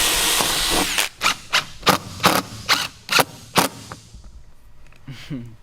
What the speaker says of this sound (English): So the reason I'm pre-drilling the screws in this is I've noticed that the screw holes are a little low.